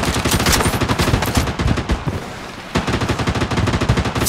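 Rapid automatic gunfire in the mobile shooter Project Bloodstrike, dense bursts of loud close shots that pause briefly around the middle, then resume in a steady rattling stream.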